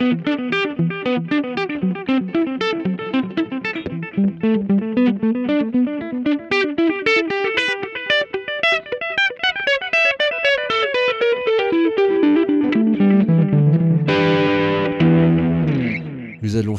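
An electric guitar through a VOX AC30 amPlug 2 headphone amp with delay effect plays a loud, flowing melody whose notes repeat as echoing trails, ending on a ringing strummed chord.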